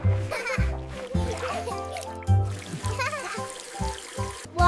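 Splashy water effects land in rhythm with a bouncy children's bath-time song, repeated short splashes mixed with music and a singing voice.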